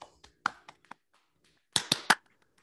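A few video call participants clap briefly and sparsely for presenters, with scattered soft claps followed by a short, slightly louder burst of three or four claps near the end.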